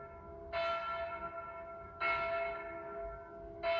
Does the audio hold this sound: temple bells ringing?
yes